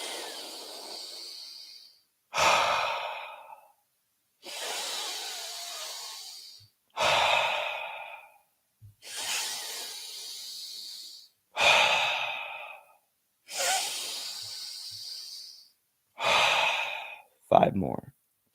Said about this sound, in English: begin to take 10 deep breaths, beginning now. Exhale through the mouth.